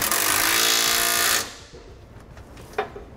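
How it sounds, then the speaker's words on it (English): A power tool, probably an impact wrench, whirs hard for about a second and a half while driving a nut on a 3/4 inch socket during an air helper spring installation on a 2007 Ford, then stops, followed by a faint tool clink. "We'll then tighten this down using a 3/4 inch socket and wrench."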